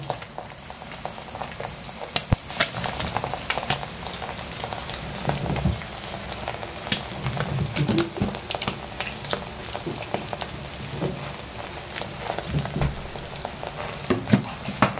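Egg banjo frying in a pan with green chilli paste, a close, steady crackling sizzle full of irregular pops and spatters that runs throughout with no voice over it.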